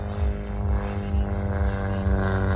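A 1977 factory-built US Pitts aerobatic biplane flies a display at an air show, its piston engine giving a loud, sustained droning buzz with strong steady harmonics and no break.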